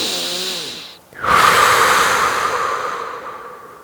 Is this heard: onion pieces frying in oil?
no